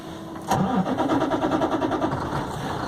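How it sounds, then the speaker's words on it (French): A truck engine cranks and catches after a short silence, then settles into a steady, loud, close idle with an even rhythmic throb. "Je vais repartir le camion."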